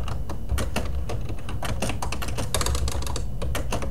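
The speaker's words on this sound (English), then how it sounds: "we can type directly in here" Rapid clicking of keys on a computer keyboard while entering text into a Microsoft Word document, close and steady, with irregular bursts of keystrokes and no talking.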